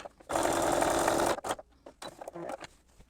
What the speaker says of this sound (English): Then I'm going to sew these 2 together.